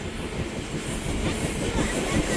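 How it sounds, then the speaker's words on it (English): A BNSF coal train rolls past close by, giving a steady, loud rumble of heavy wagons on the rails throughout, with no talk over it. "This is the BNSF Uriah's birthday coal train"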